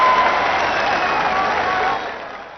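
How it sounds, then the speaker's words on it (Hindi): Large rally crowd applauding in honor of the women attending the gathering, a loud, dense wash of clapping and crowd noise that stays steady, then eases off toward the end. "उनके लिए पुरजोर तालियां"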